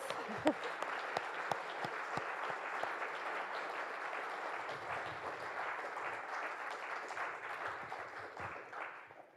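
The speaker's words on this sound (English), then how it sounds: "let's do a round of applause" A congregation at a Unitarian fellowship gathering on New Year's Eve gives a sustained round of clapping, dense and even at first, then gradually thinning and fading out.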